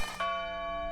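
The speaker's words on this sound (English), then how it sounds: "Bells chime." A memorial bell rings out at a ceremony for the September 11th attacks. It gives one sustained, resonant tone with a second strike near the start, ringing on steadily with no voices.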